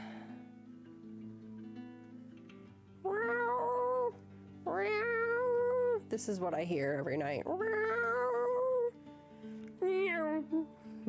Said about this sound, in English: I hear my kitty coming to sing me a song